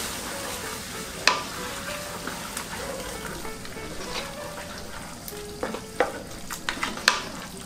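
Tomato sauce goes into a pan of sizzling ratatouille vegetables over the heat, giving a soft, steady frying hiss with scattered light clinks and scraping from stirring.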